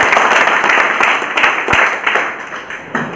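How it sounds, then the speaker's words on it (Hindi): A crowd breaks into applause, many hands clapping together in a dense, continuous patter that stays loud throughout. "एक बार जोरदार तालियां चाहूंगा"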